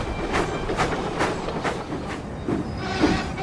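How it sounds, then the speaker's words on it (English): An animated steam engine train puffs along rails in steady rhythmic chuffs, with clattering wheels underneath and a moderately loud, continuous sound. "Later, Thomas puffed back to the Sodor Steamworks"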